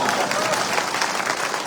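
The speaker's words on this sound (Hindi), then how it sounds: "एक ताली तो बजाओ।" Crowd at a live village gathering in Tilonia near Kishangarh, India, claps on request, a short burst of applause mixed with voices.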